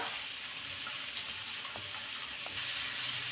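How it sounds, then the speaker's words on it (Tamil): Ridge gourd peel sautéing in a pan, a steady close sizzle and fry with a few faint stirring scrapes and no talk. "இந்த பீர்க்கங்காய் தோலை நல்லா வதக்கி விடணும்"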